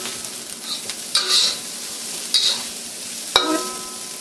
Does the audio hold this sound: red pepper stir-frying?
yes